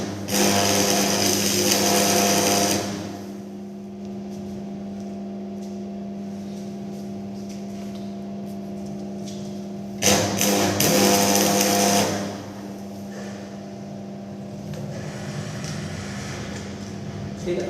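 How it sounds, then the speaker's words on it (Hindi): Arc welding with a welding rod gives two loud, crackling bursts of hiss at the start and again around ten seconds in, separated by a quieter stretch of steady hum. There is no talking. "हम लोग इसमें वेल्डिंग ऑपरेशन को अप्लाई करेंगे।"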